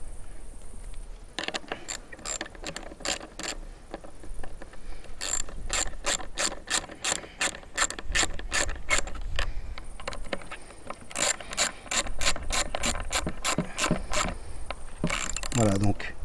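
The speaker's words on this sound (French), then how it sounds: "Alors les boulons, on doit serrer, mais on ne doit pas serrer comme un dingue" A ratchet wrench tightens carburetor bolts on a Stihl 028 AVS chainsaw, giving close, crisp runs of rapid clicking in several bursts separated by brief pauses, with no voices.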